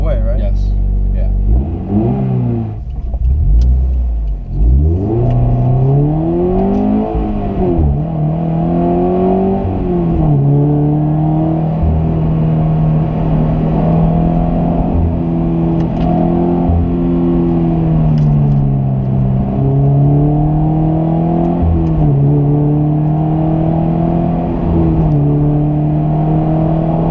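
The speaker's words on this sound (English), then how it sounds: "you can definitely hear that aftermarket exhaust right away" A Subaru BRZ / Scion FR-S with an aftermarket exhaust drones steadily from inside the car. The engine note rises and falls with rev changes, and people talk over it.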